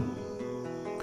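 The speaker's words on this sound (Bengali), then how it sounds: "ঝিঝি পোকার ডাক" Crickets chirp steadily as a quiet night ambience in a brief audio-story sound effect, with a soft rhythmic trill and no voices.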